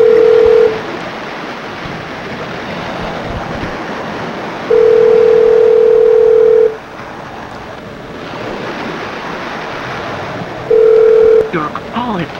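An outgoing telephone call rings on a line, with three steady ringback tones separated by long gaps over a noisy, windy outdoor background.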